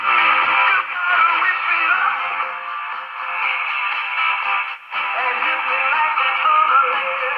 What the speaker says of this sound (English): that was Dakota's radio station